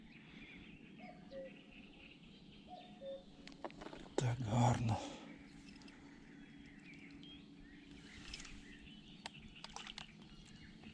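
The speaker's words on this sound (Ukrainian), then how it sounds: "так тихо пташки співають" Small birds chirp faintly and sparsely on a quiet morning at a fishing spot, with a few brief tweets spread through the stillness. Someone speaks softly once partway through.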